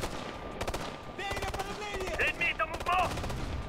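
Sharp bursts of rapid gunfire from Ghost Recon Future Soldier, moderately loud and intermittent, heard under a radio-style voice line and game chatter.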